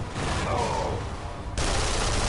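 A grenade blows up in a first-person shooter game, a loud dense burst of crackling noise with a sudden jump in level partway through, dominating the mix.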